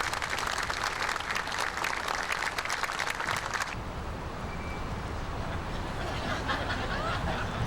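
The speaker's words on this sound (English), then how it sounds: "Let's give this team a round of applause for their fine work." Outdoor crowd at the JFK Tribute statue dedication in Fort Worth applauds the team, a spread of clapping that is fairly faint and airy, stopping partway through and leaving quiet open-air ambience.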